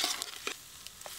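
Goat blood fry, a Telangana nalla fry, stirred in a hot pan: a few quick spatula scrapes over a faint continuous sizzle, brief and quiet, without talking.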